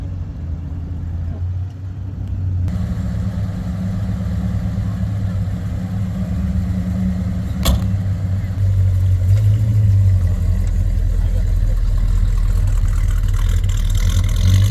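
Trucks at a Mopar car show starting up and rolling out, engines rumbling and idling nearby with a low steady drone that swells louder in the second half, while people talk over it.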